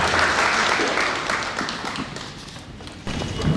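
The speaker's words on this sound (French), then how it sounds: "Sous vos applaudissements s'il vous plaît" Audience applause at a French pleading competition on rape, welcoming the jury president: dense, steady clapping from a crowd that thins slightly midway, then swells again near the end, with a voice faintly under it.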